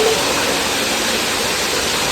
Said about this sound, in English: it's rainbow waterfall